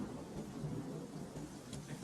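Rain falls on a rainy night in a Western film, a steady hiss with low thunder rumbling underneath, heard alone and fairly faint.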